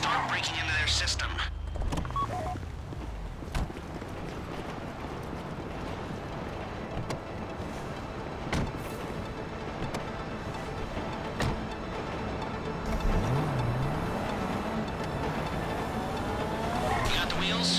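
A car in GTA V Online, heard during a bank heist mission, drives with a steady engine drone and road rumble that runs the whole stretch, with a few mechanical clunks and voices talking over it.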